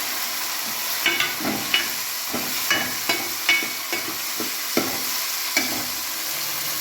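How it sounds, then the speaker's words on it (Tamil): Garlic, onion and tomato sautéing in a pan for kara kuzhambu, a steady close sizzle with repeated scraping stirs of a spoon against the pan at irregular intervals, and no voices. "இந்த மாதிரி நேரத்தில் ஒரு 4 பீஸு தக்காளியாக இதில் ஆட் பண்ணுறோம்."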